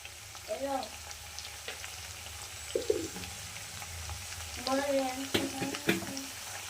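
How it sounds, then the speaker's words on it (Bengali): Chicken with ginger-garlic paste, onion and chili powder frying in a pan for a papaya and chicken curry, a steady sizzle under scattered stirring scrapes, with a voice speaking over parts of it. "দেখুন বন্ধুরা এবার আমি ভালো করে নেড়ে চেড়ে নেব, সুন্দর করে নাড়তে হবে।"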